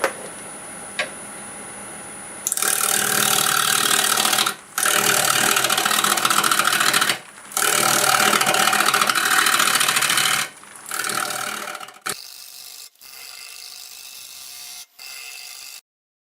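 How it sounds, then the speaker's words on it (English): A wood lathe spins a catalpa bowl at roughly 900 to 1100 RPM while a 5/8 bowl gouge cuts, producing a loud, steady broadband scraping roar in long stretches broken by brief pauses, close and without talk. "Got a 5/8 bowl gouge, and we're doing about 900 RPMs"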